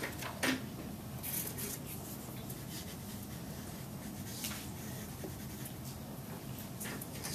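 A marker or chalk writes on a board during an engineering lecture on vibration, with faint, intermittent strokes and a few short squeaks over a quiet room hum.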